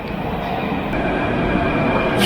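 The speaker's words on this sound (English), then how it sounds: "probably another 10 minutes or so till the airport train. And here it comes." An airport rail-link train pulls into a station, a loud steady rumble of wheels and motors that builds slightly as it arrives.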